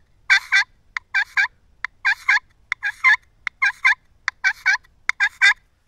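A hand-operated turkey call imitates a turkey outdoors during scouting. It gives a steady series of sharp, raspy yelps and short clucking cuts in quick clustered bursts, loud and close, with no talking.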